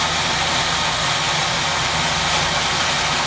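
Tsugami SS-20 CNC Swiss lathe with its front tools spinning at 5,000 rpm, giving a steady, loud machine whine and hum that holds evenly throughout with no talk.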